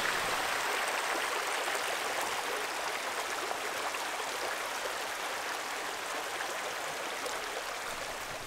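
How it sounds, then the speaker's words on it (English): A river flowing behind a campsite, with steady broadband rushing and trickling water that stays constant and fairly close throughout, with no voices. "We have a nice river flowing through behind our site."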